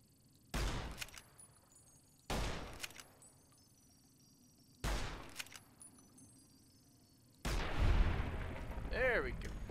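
Gunshots in the video game Fallout New Vegas, four heavy booming reports spaced about two seconds apart, each with a rumbling decay, the last one followed by a longer echoing tail with a mechanical whine.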